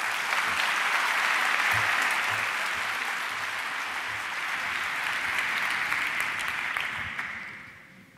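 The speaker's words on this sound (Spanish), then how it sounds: "un aplauso muy fuerte" Sustained, loud applause from a conference audience welcoming speaker Laura Morrón on stage at a science outreach event, dense and steady before fading out near the end.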